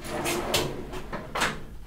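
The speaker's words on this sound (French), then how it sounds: "Les tiroirs, vous pouvez les ouvrir à fond." Drawers on a Facom JET.8M5 tool trolley slide open in a few quick rolling swishes, close and fairly loud, with a faint voice underneath.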